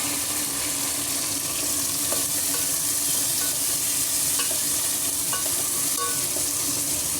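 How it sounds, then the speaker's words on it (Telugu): Chopped tomatoes hiss and crackle in a hot pan over golden fried onions while cooking paneer peas pulao. A steady, loud sizzle runs throughout with occasional scraping stirs and faint clinks. "ఇప్పుడు మనం టమాటోస్ వేసుకుందాము"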